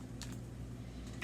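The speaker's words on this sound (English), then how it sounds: "Nothing fancy, except I need my scissors to open it." Scissors snip open a plastic whipped topping container in a home kitchen: a few faint, quiet clicks and cuts, two short bursts near the start and one near the end, over a low hum.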